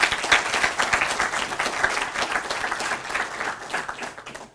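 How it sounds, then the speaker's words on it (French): An audience at the semi-final of a speaking competition applauds, a lively crowd of clapping hands with distinct individual claps standing out, slowly easing off toward the end. "ça s'applaudit également."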